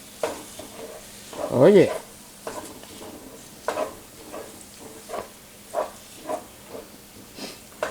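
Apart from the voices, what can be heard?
garlic sizzling and being stirred in a pan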